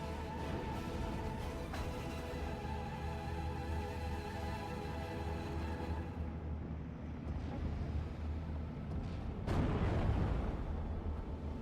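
In a World War II strategy game battle, M7 artillery strikes an anti-tank gun amid a constant rumble of distant combat, ending in a louder, sharper blast near the close, with no talking.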